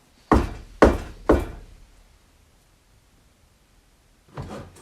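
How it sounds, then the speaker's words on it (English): Knocks on a wall inside a reputedly haunted house: three sharp, evenly spaced raps close by, then a pause of quiet and a softer, muffled thump near the end. "I'm going to knock on a wall."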